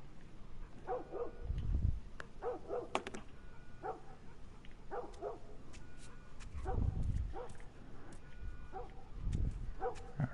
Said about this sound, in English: Something happened to the dog.